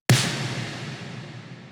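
One big 1980s-style snare drum sample cracks once, sharp and loud, then fades into a long, heavy reverb tail, heard alone.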